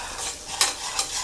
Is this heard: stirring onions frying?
yes